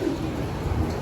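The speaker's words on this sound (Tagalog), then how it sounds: "Ito na, dalawa na sila mga kalapatids" A pigeon's soft, low cooing, close by and brief, over faint background hiss.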